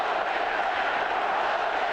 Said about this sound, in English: Listen to the crowd now.